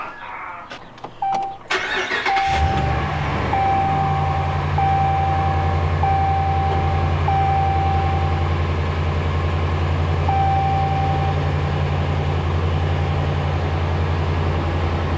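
A 2013 Dodge Ram 1500 Hemi cranks and starts after an oil pressure sensor replacement, then settles into a steady, close idle while a repeating warning chime beeps over it.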